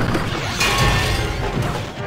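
Bomb explosions during a Clash Royale match: loud, thumping blasts with crashing, shattering edges land in quick succession and sit close and dense over the whole stretch.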